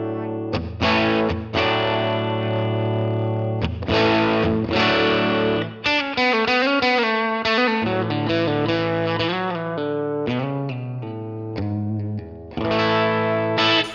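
Electric guitar played through a NUX Amp Academy with a compressor and super reverb setting, a few seconds of sustained chords and then a run of quick picked single notes, loud and close, ending on more ringing chords.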